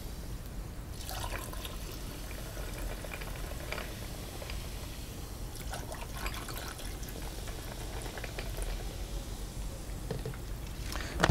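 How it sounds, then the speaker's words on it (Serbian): Sprite pours into a drink, a faint continuous fizzing and bubbling with soft liquid splashes, steady and low throughout, with no voices. "Mi ćemo sada sipati Sprite."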